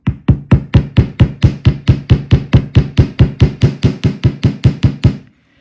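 Twenty-odd steady, evenly spaced hammer blows flatten 20 gauge wire into a paddle, each strike a sharp, loud metallic knock ringing briefly on a hard block, with no talking.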